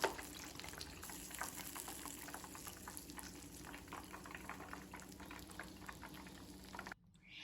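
Chicken pieces fry steadily in a frying pan, a dense continuous bubbling sizzle with crackles that holds at an even level before cutting out abruptly near the end.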